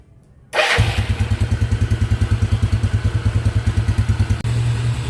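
A Yamaha Mio motorcycle engine starts after a moment of quiet, then idles and revs with a rapid, loud, clattering rhythmic pulse close by, the pitch stepping up near the end.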